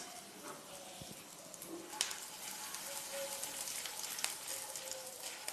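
Whole cumin seeds and asafoetida sizzling in hot mustard oil in a pan, a steady crackling hiss with scattered sharp pops throughout.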